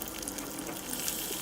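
Meat goes into hot rendered mutton fat in a cauldron, giving a steady, even sizzle and crackle that hisses on without a break, fairly quiet and close.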